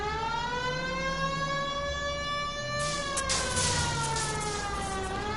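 An old 1950s-style siren in a video game wails with layered harmonic tones, rising and falling slowly, steady and prominent, with a burst of noisy clatter joining partway through.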